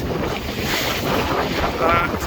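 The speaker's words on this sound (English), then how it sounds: "It's a little choppy out here at the moment. We've still got wind against tide, and there's a few white caps ahead." Steady wind buffets the microphone over choppy water slapping a sailing yacht at sea off Looe, with wind against tide raising white caps; a continuous, loud rushing wash with no speech.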